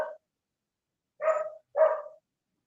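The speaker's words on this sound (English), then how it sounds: "Make that dog shut up." A dog barks three times: one clipped bark at the start, then after a pause two close, fairly loud barks in quick succession, with no other sound between them.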